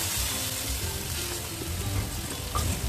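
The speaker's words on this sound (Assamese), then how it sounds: "কিছু ভজা হৈছে" Food frying in a pan with oil, a steady close sizzle and crackle running the whole time, with faint stirring sounds and no talk.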